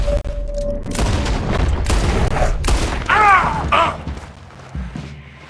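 Gunfire in Red Dead Redemption 2 erupts in loud, booming shots and rapid volleys over a dense, chaotic game soundscape, with a brief shrill cry in the middle before the noise thins out.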